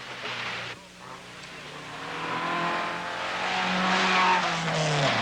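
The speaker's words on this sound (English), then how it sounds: "There are several jumps in this stage as we see car number 5 hit one of them." Rally car number 5 hits a jump on a rough stage of the 1979 Tall Pines Rally: the engine dips briefly, then climbs into a loud, sustained revving run as the car nears.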